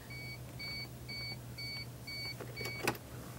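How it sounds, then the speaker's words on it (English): A 1999 Pace Arrow 37S motorhome sounds a jacks-down warning: a row of short, evenly spaced electronic beeps, clear and moderately loud over a low steady engine or fan hum, with a brief click near the end. "The beeping you hear, it says jacks are down."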